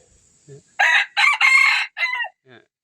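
A rooster crows nearby, loud and clear, in one long broken call of several bursts with short gaps, followed by a faint cluck.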